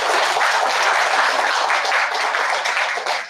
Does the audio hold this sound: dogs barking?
no